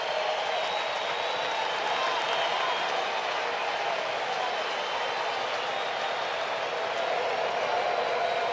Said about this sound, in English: Sellout crowd cheering Max Fried on.